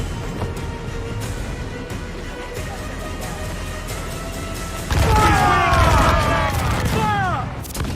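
Cannon fire from a sailing ship in Assassin's Creed Black Flag booms repeatedly amid battle noise, growing louder midway as volleys and shouting crew voices overlap.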